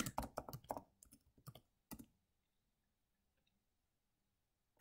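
Quick bursts of typing on a computer keyboard while entering a route from Sinaia to Slănic Prahova, Romania, into a map planner; about two seconds of close, fast keystrokes, then near silence.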